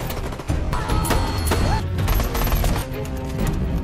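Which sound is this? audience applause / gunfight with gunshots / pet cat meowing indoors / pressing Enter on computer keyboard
gunfight with gunshots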